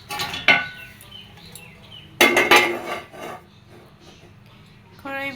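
Metal lid clanks down onto a cooking pot in a home kitchen: a sharp clink early, then a louder rattling clatter of metal cookware, quieter rustling between, and a short tonal scrape of metal near the end.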